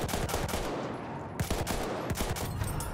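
Rapid gunfire in the video game Battlefield 1, bursts of automatic shots with sharp repeated cracks, several volleys closely spaced and loud throughout.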